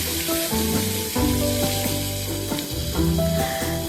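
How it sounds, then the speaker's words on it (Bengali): Koi fish fries in hot oil, one fish at a time, with a constant, close sizzle, accompanied by background music. "একটা করে মাছ দিয়ে ভেজে নিচ্ছি"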